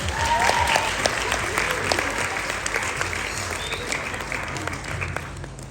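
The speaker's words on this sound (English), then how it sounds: "So can I please have a round of applause for each and every single one of you?" Audience clapping at an outdoor vegan campout event in Australia, a sustained burst of applause that peaks early and gradually tapers, with scattered sharp claps standing out from the crowd.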